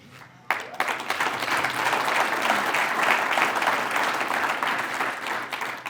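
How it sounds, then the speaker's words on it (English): Audience applause at a county State of the County address, a thick sustained burst of clapping starting abruptly and holding steady at full strength. "I have a lot more, so you might want to hold your applause."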